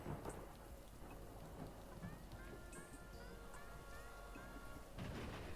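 Steady heavy rain pours through a thunderstorm full of lightning, with rumbling thunder rolling underneath and a louder swell near the end, all continuous and enveloping.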